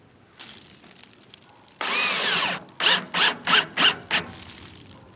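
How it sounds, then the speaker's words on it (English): A power drill drives screws into the side holes of a mailbox: one sustained high whirring run followed by five or six short, evenly spaced bursts as the screw is tightened, close and clear. "So let's go ahead and attach these screws now."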